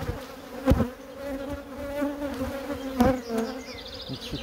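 Buzzing from a productive colony of black honeybees, a steady dense hum throughout with a few louder close passes as individual bees fly near.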